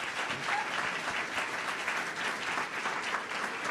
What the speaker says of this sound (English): Let's give these people a round of applause.